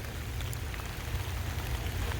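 Steady rain falls across woodland, a soft continuous patter with a low rumbling undertone, no voices present.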